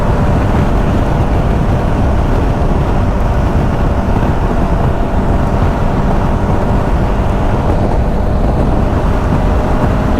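A KTM 1290 Super Adventure 2022 motorcycle cruises on a motorway in the rain, giving a constant loud roar of engine, wind and road spray that holds unchanged throughout.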